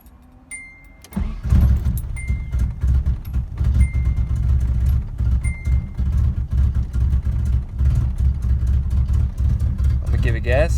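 A KA car engine cranking and catching after its fuel pressure regulator was replaced, then running with a rough low rumble close by, following a faint metallic jingle of keys at the start.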